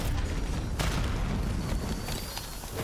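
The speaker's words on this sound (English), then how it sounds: "Incoming grenade." Grenade detonation in Black Ops 6 multiplayer, a sharp boom near the start followed by a second burst, set against a loud, dense wash of low rumble and battlefield noise.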